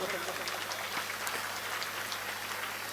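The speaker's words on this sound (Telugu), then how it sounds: "అతను కూడా చప్పట్లు కొట్టండి" Steady audience applause fills a hall during a Telugu spiritual talk on the Bhagavad Gita, a continuous even patter of many hands clapping throughout.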